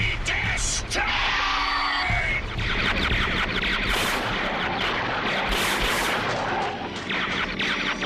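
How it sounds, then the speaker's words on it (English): Cartoon energy weapons and explosions fire at the Autobots in a Transformers battle scene, a dense, loud barrage of blasts mixed with shouting voices. "Fire! And continue firing until Optimus Prime and the Autobots are totally destroyed!"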